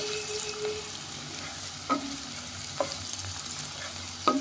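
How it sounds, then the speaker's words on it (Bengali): Onion seasoned with a pinch of salt and sugar fries in a pan for chicken curry, a steady close sizzle with a few sharp scrapes of a spoon as it is stirred, no voices. "এরপর পেঁয়াজটিকে ভালো করে নাড়াচাড়া করতে হবে যতক্ষণ না গোল্ডেন ব্রাউন কালার আসে।"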